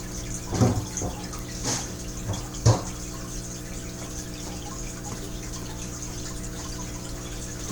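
An aquarium filter switched back on pours water into a fish tank, a steady trickling, bubbling flow with a few splashy surges early on, close and continuous.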